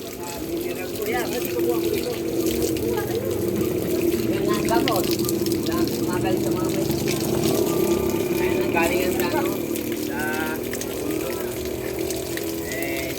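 Spring water at a grotto trickles and pours steadily nearby throughout, a constant liquid burble, while people talk over it.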